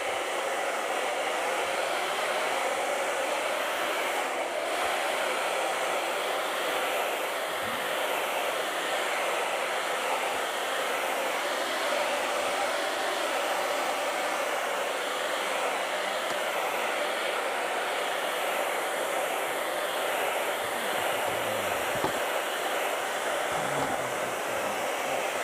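A hair dryer blows continuously as it dries acrylic paintings, a steady loud whooshing hum with no pauses for the whole stretch, close to the listener and without any voices.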